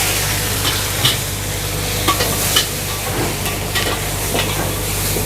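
Oil, garlic and condiments for butter shrimp sizzle and crackle steadily in a hot wok, with intermittent stirring scrapes, close and fairly loud throughout.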